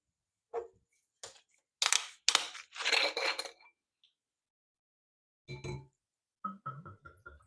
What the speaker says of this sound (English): So let's finally open the bottle.